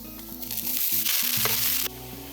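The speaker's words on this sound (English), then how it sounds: "Ghee, mustard seeds in it, curry leaves, chopped garlic, chopped onion," Mustard seeds, curry leaves, chopped garlic and onion frying in hot ghee for a ghee-roasted king prawn masala: a strong, close sizzle swells and fades under steady background music, with no talk.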